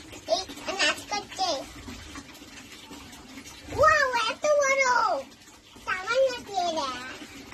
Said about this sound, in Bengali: আমার মাছ ধোয়া হয়ে গেল